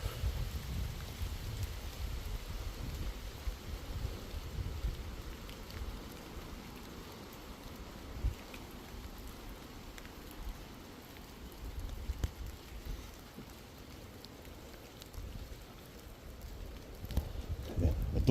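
Rain falls steadily through the night in a graveyard, a soft continuous patter with scattered louder drops and low rumble beneath it.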